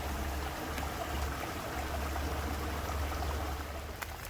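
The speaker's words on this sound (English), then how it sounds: "with the recent rain, we've got some water flowing over the top of the dam" Rain-swollen water flows steadily over the top of a small dam on a woodland hike, a constant, loud rushing and splashing close by with no talk.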